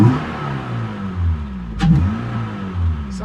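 Car engine fitted with a cheap eBay cold air intake, revving in a few short rising bursts close by, alone without talk, ending with a sharper burst near the end.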